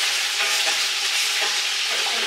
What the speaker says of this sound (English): I'm just going to turn this this meat here and the sausage